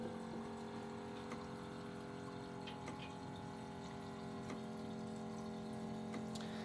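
Near-boiling water heated by espresso machine steam for poaching eggs gives a faint, continuous low hum and bubbling churn, with occasional small ticks and clicks.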